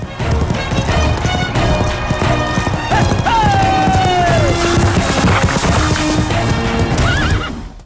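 Horse hooves clip-clop steadily over a full music bed, with a horse whinnying loudly partway through, staged as a sound effect in a comedy skit about riding.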